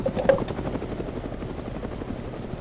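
Helicopter in the video game ArmA 3, a steady, close rotor and engine drone with a rhythmic thrum that holds throughout with no voices over it.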